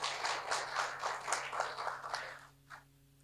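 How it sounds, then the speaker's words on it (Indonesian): Audience at a village officials' inauguration ceremony applauding in a rhythmic burst of clapping that stays fairly distant and quiet, then trails off to a single last clap. "tepuk tangan buat Pak Abdurrahman"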